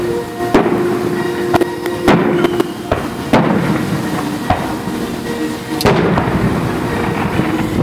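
A fireworks display in Hereford, Texas: sharp bangs and crackling pops go off irregularly, some close and loud, over a continuous rumbling wash of distant bursts.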